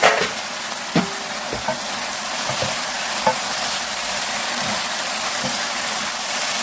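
Fish cake stir-fried with chili oil in a pan, a loud continuous sizzle close by, punctuated by a few sharp clacks of a utensil against the pan.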